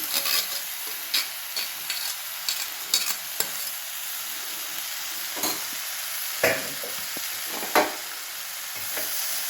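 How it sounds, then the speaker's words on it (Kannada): Drained moong beans and drumstick leaves are stirred in a hot frying pan, giving a continuous loud sizzle with sharp scraping strokes of the spoon at irregular moments throughout. "ಈಗ ಬಸಿದಿಟ್ಕೊಂಡಿರುವಂಥ ಹೆಸರು ಕಾಳು ನುಗ್ಗೆ ಸೊಪ್ಪು ಸೇರಿಸ್ತಾ ಇದ್ದೇನೆ."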